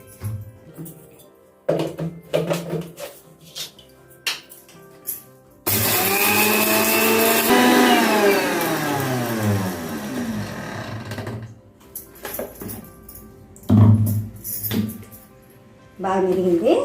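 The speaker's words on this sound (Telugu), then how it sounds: "మిక్సీ పట్టేస్తాను" A kitchen mixer grinder runs loud and steady for about six seconds, grinding kalakkai (karonda berries) for pickle, with a rising and falling whine. Speech comes before and after it.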